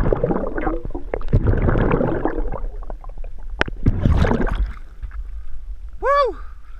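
Cannonball jump into Phelps Lake in Grand Teton: a heavy, close splash followed by churning, gurgling water, then a second burst of turbulence and a short rising whoop-like tone near the end.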